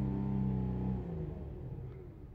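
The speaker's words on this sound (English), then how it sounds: "The engine is absolutely beautiful, and the combination with the exhaust," The engine and exhaust of a 2018 VW Passat GT produce a close, steady low rumble whose pitch falls slightly as the revs drop off.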